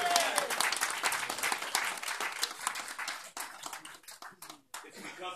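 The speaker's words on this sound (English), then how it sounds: "Let's give him a hand clap." Audience at a clergy council fellowship dinner claps for Reverend Riddle, a dense, fairly close round of hand clapping that thins out toward the end, with some voices mixed in.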